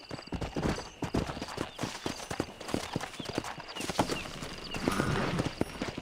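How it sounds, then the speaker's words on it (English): Horse hooves clip-clopping in a rural open-world video game, a steady close rhythmic clatter of hoofbeats with a brief whinny, background game ambience and some talk. "Cadê meu cavalo?"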